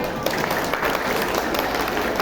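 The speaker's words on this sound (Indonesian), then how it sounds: "tepuk tangan karena cuma 1" An audience at a school committee gathering claps in a dense, loud burst of applause that carries on without a break.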